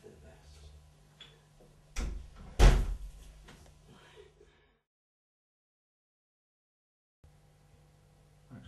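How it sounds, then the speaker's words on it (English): A door is shut once with a sharp, close thud amid light movement and background talk, followed by near silence. "Shall I shut the door?"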